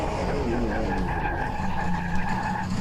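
Race car tires squeal and skid under hard late braking in a Group C sportscar racing video game at Sebring, with a loud continuous engine roar and someone speaking over it.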